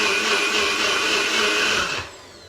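A blender whirs at high speed, liquidizing strawberries with a steady buzzing drone, then cuts off and spins down near the end.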